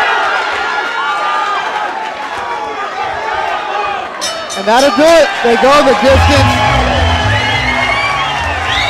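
Boxing crowd at a live fight cheering and whooping at the final bell, a loud swelling roar that rises sharply midway, with commentators talking over it.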